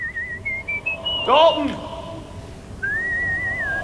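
A person whistles a wavering tune in the horror film Insidious, the melody running clearly through the opening and returning near the end, with a brief burst of speech in between.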